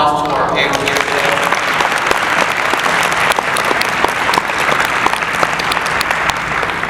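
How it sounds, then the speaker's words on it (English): A conference audience gives a panel a dense, sustained round of applause, loud and continuous from start to finish, with a voice briefly audible at the start. "Can we give a round of applause to our panel here today?"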